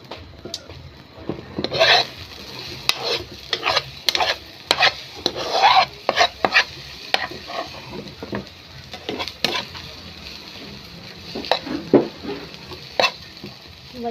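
Food is stirred and mixed in a frying pan during cooking, with repeated scraping and rubbing strokes of a utensil in irregular bursts over a faint sizzle.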